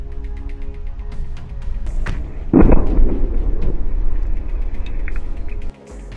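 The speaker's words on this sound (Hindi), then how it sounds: "हमास के लड़ाकों ने इसी बिल्डिंग को बारूद से उड़ा दिया" A booby-trapped building in western Jabalia, Gaza, is blown apart with explosives. The loud blast bursts out suddenly and rolls into a long, rumbling roar that drops off sharply near the end.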